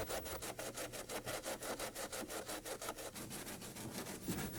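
Cutting an opening in the side air scoop of a RotorWay 162F helicopter body, a rapid, even run of about twenty back-and-forth sawing strokes, close and rhythmic, with no voices.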